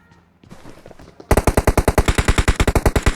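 Rapid automatic gunfire in the mobile shooter BGMI, preceded by brief scattered in-game noises, then a loud, evenly spaced burst of shots rattling off continuously for about two seconds.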